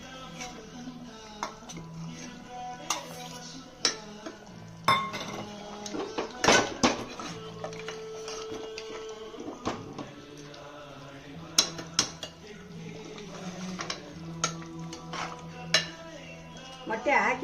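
Eggs going into a pot of village-style farm chicken curry with mutton and ground coconut masala, with a metal spoon clinking and scraping against the pot in irregular bursts while someone talks nearby.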